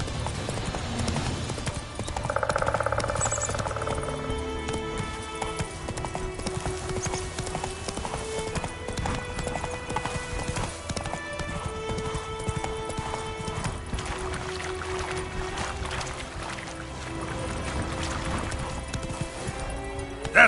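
Roach the horse galloping in the video game The Witcher 3: Wild Hunt, a rapid, rhythmic clip-clop of hooves running steadily over a game music score with sustained tones.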